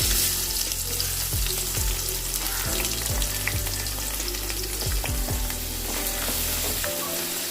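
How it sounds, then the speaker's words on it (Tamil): Sliced onions fry in hot oil for a roadside-style salna, giving a dense, constant sizzle with occasional stirring strokes, close and loud throughout, then cutting off near the end. "நல்லா கொஞ்சம் கோல்டன் கலரில் வரைக்கும் நல்லா வதக்குங்க."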